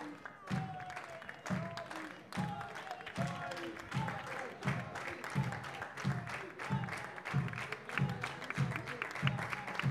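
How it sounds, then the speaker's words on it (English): A football crowd at a local match applauds a departing player: a soft, continuous clap sits under a voice talking in steady bursts across the whole stretch. "a round of applause here for the work that he's put in today as he salutes the crowd"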